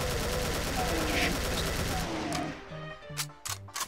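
An AK rifle firing in the Doom: The Golden Souls game, a dense burst of rapid automatic shots at first, then a few separate sharp blasts as the firing breaks up.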